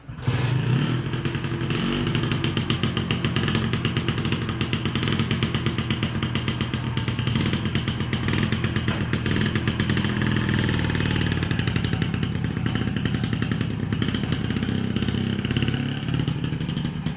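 A classic Vespa PTS scooter engine runs steadily nearby, a rapid rattling putter that holds at an even idle for the whole stretch, with no voices.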